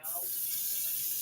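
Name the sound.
washing beef ribs under running water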